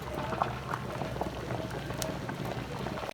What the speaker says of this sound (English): Now that it's really boiling, we are going to add the basmati rice.